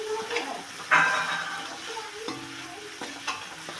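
Potatoes going into a pan of ginger and garlic fried until reddish, a close sizzle with spatula stirring and scraping, plus a few sharp clicks of utensils against the pan.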